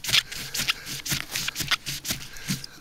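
Gerber Bear Grylls Ultimate Survival Knife blade slicing through material in a cut test, a series of quick, scratchy rasping strokes repeated about every half second, close and moderately loud.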